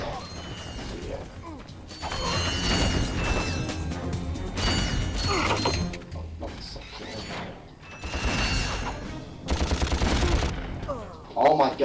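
Gunfire and mechanical weapon effects from the Ratchet and Clank video game, with dense bursts of shots and clanking action repeating through the scene alongside game music and effects.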